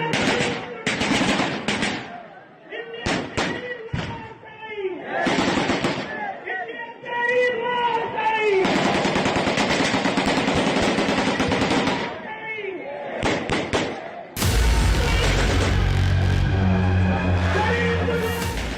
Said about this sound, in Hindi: बंदूकों की गर्जना के बीच प्रधानमंत्री नरेंद्र मोदी के खिलाफ आवाज लगनी शुरू हो गई।